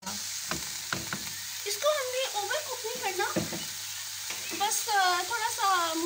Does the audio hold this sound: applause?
no